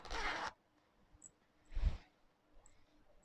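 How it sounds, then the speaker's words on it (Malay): A zipper on sewn fabric is drawn closed in one quick, close, quiet zip, followed by soft fabric handling noises during a sewing job on a waistband with elastic and stiffener. "tutup kita punya zip ni"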